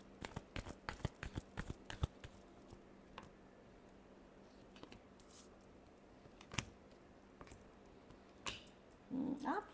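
Tarot cards being shuffled in a final shuffle: a run of crisp, rapid flicks and taps, dense at first, then sparser isolated snaps, close and fairly quiet with no talk.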